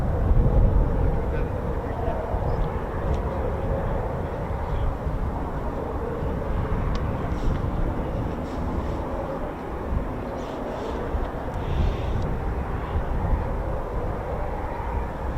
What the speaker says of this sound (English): Oh, there's a Typhoon taxiing.